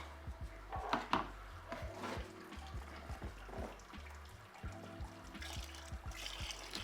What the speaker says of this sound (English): Let's start pouring over top